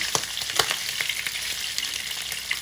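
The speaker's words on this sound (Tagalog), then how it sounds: "Pagka ganito po magpiprito po kayo" Pork adobo fries in a pan with a steady crackling sizzle and sharp spitting pops scattered throughout, close and clear.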